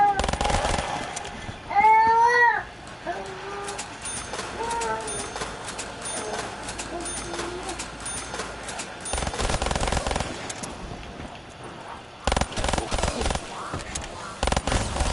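Rapid automatic gunfire in Call of Duty Black Ops 3 Zombies, with bursts of shots mixed with game effects and music, while someone talks over the action throughout.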